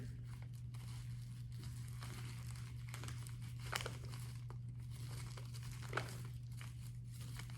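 A plastic bag of candy is folded over for a piñata, giving faint, close crinkling and rustling with a couple of sharper crackles, over a steady low hum.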